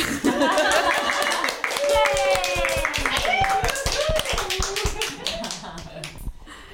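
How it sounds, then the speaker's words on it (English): Small group of podcast participants clapping together, sparse uneven claps mixed with laughter and chatter, fairly close and moderately loud over several seconds. "I feel like we should clap."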